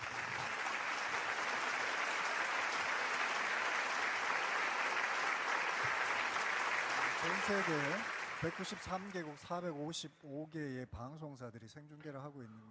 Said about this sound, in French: veuillez remercier le Premier ministre Mark Phillips avec de chaleureux applaudissements